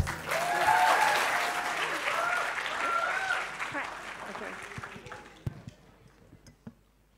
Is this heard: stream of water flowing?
no